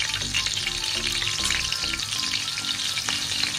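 Garlic sizzles over a low flame in oil already infused with green chillies, giving a close, constant crackling fry with occasional soft stirring sounds.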